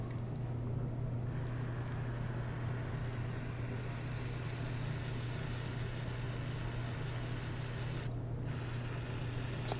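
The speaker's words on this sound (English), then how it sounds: "I'll just spray them down on the paper towel" Aerosol cleaner sprayed onto small carburetor parts of a 2011 EZGO TXT gas golf cart resting on a paper towel, a steady close hiss running almost the whole time, briefly broken near the start and once more late, over a low constant hum.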